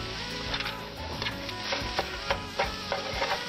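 Eggs being scrambled in a frying pan sizzle steadily while a utensil scrapes and stirs in repeated strokes, close up, with no talking.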